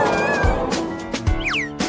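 Kitten meowing in short, high rising-and-falling cries across the two seconds, close and fairly loud over faint room background.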